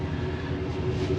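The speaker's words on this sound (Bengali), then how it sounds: "আমাদের ট্রেন ছেড়ে দিয়েছে," An overnight sleeper train pulling out of Bangkok toward Chiang Mai gives a steady, dense interior rumble with a faint hum, continuous and even throughout.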